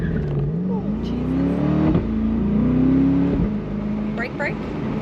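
Corvette C8 launching hard under launch control, its engine revving and pulling in rising, steady tones close inside the cabin, with people talking and reacting over it.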